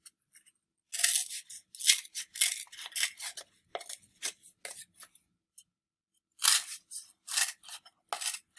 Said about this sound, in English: I'm going to do scissors.